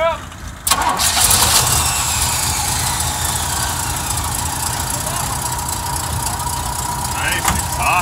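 An Oldsmobile 98 engine with a freshly rebuilt alternator starts and settles into a steady idle, a continuous high whine riding over the running engine for several seconds, heard up close.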